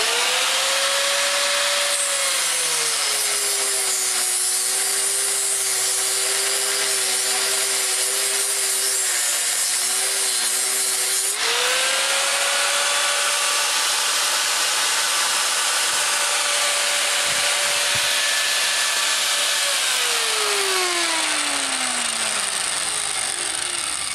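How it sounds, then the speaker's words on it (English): Angle grinder cutting through the plastic sleeve on a stuck drill chuck, a loud continuous whining grind that holds for over twenty seconds, its pitch sagging under load and shifting partway through, ending with a falling pitch as it spins down. "You're gonna have to make some cuts in here to get this plastic sleeve off."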